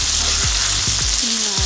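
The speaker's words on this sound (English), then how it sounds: "let's go ahead and flip this liver over" Beef liver fries loudly in a pan with continuous close sizzling, broken by a few scraping and stirring sweeps of a utensil, no talking.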